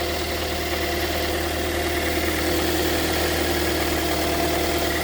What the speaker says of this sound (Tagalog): Let's have to wait until the engine get into the operating temperature